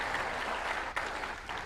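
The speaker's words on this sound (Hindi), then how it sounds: "एक बार इन सब के लिए ताली बजाओ।" An audience at a spiritual festival gathering claps together, a dense, sustained burst of applause with a faint voice behind it and one brief dip in the middle.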